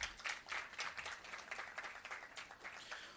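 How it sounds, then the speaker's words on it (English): A short burst of audience clapping at a youth dialogue event, moderately loud with uneven individual claps that taper slightly toward the end. "One last round of applause"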